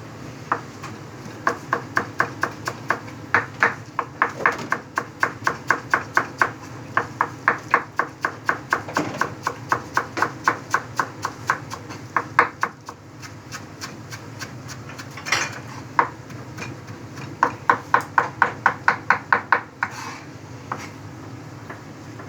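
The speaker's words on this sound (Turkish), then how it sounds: "Şimdi maydanozunu da doğrayacağım." Rapid, steady knife strokes tap on a cutting board in long runs with short pauses as parsley is chopped, close and clear, with no talking.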